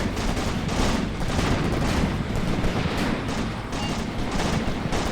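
Dense, continuous gunfire from soldiers in a WW2 winter battle video game, overlapping rifle and machine-gun bursts with booms forming a loud, unbroken barrage for the whole stretch.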